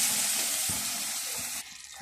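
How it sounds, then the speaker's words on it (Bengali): Ground spice paste with a splash of water frying in a pan for a fish and brinjal curry, a steady close hiss with faint stirring scrapes that drops off near the end. "সামান্য একটু পানি দিয়ে আমি মশলাটাকে কষিয়ে নেব।"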